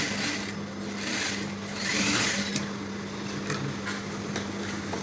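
A sewing machine stitching the lining of a waistcoat runs steadily at a fast, even whir with a faint hum underneath, close by and with no voices.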